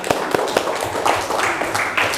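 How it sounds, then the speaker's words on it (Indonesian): A group in a classroom lesson claps briskly, making a string of sharp, uneven close claps with a short burst of chatter near the end. "Tepuk tangan."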